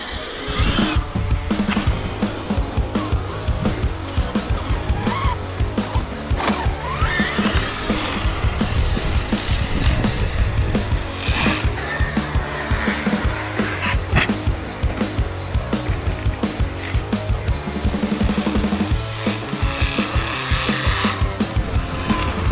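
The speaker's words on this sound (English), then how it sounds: "I'm pretty sure the ring and pinion in the back are skipping now, as you can hear." Traxxas XMAXX RC truck with a Hobbywing 1100 kv 5687 motor driving hard, its whining motor surging and cutting with repeated clattering bursts from a skipping rear ring and pinion, close and continuous.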